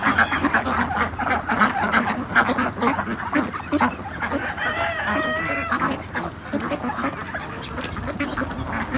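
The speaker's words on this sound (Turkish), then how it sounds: "Yavru ördekler dışarıda." Busy farmyard chorus of quacking and honking from ducklings, steady and fairly close, with overlapping calls throughout and no talking.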